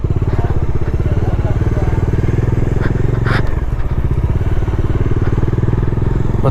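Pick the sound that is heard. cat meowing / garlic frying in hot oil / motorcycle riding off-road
motorcycle riding off-road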